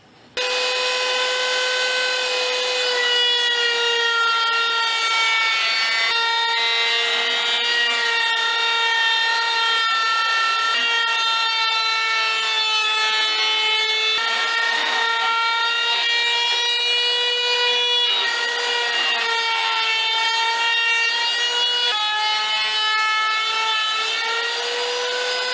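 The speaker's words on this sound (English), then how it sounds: "Now I'm going to put a round over on all the edges inside and out" A power router whines steadily at a high pitch while rounding over wood edges, loud and continuous with slight changes in tone, no talking.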